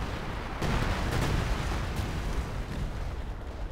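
Priest self-propelled artillery firing in Company of Heroes 2, a heavy booming blast with a rumbling, sustained roar under continuous battle noise.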